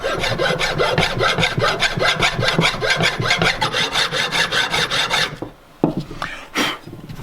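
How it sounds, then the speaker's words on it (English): A big long file rasping powder coating off a Ford Escort RS Cosworth brake caliper, with rapid, steady back-and-forth strokes up close that stop abruptly, followed by a couple of lighter scrapes. "I'm just going to put it on like that and rub it gently to take the powder coating off."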